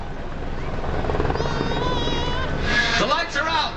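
A pack of 125cc MotoGP motorcycles at Indianapolis Motor Speedway roars off the start of a race, a dense high whining engine drone heard over a commentator talking.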